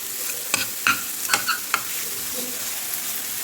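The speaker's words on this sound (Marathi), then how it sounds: "आता चाट मसाला टाकल्यापासून आपण एक मिनिट म्हणजे मस्त ही फ्राय करून घेऊया" Green chillies frying with chaat masala in a pan over low heat for dahi mirchi, a steady broadband sizzle with several sharp stirring clicks and scrapes of the spoon, close and fairly loud, no voices.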